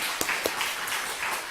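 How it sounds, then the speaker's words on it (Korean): A church congregation breaks into brief, dense applause, a steady wash of many hands clapping together. "박수도 한번 치겠어요."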